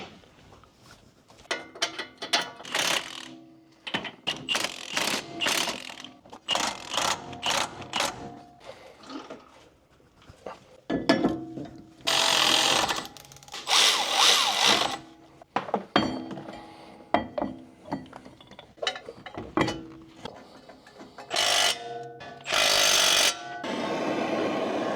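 A ratchet wrench loosens a nut during a brake job on an E92 BMW M3, heard as repeated close bursts of rapid mechanical clicking separated by short pauses.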